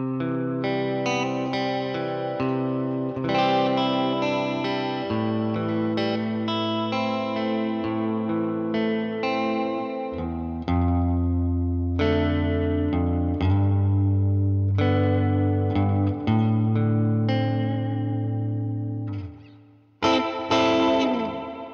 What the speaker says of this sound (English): And with the reverb pedal engaged.